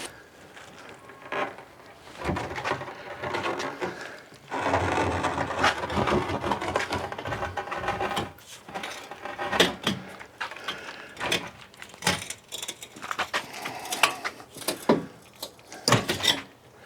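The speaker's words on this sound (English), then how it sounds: "Got it strapped to my wheelbarrow. Hopefully I can tip this over, wheel it around" A wheelbarrow carrying a heavy flagstone rock strapped to it rattles and creaks as it is tipped and wheeled, with bursts of grinding, scraping and knocking rising and falling across the clip, fairly close and without talk.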